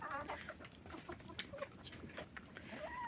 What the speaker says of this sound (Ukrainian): Друга десь куриця квокче